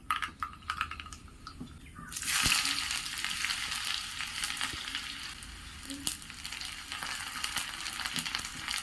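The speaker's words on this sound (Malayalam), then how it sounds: "അതിലേക്ക് വെളിച്ചെണ്ണ ഒഴിച്ചു കൊടുത്തു അതിനുശേഷം കടുകും ചെറിയ ഉള്ളിയും കരിയാപ്പിലയും കിട്ടുന്ന നമുക്ക് കരിഞ്ഞു പോകാതെ ഒന്ന് മൂപ്പിച്ചെടുക്കാം" Mustard seeds, shallots and curry leaves fry in coconut oil for a beef mappas tempering; a strong hiss bursts in after a few quiet seconds of light stirring clicks, then sizzles steadily and close.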